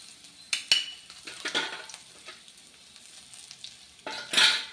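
Spices being tempered with asafoetida and salt in a hot pan, a soft steady sizzle with a few sharper stirring and pan clinks, quiet and close.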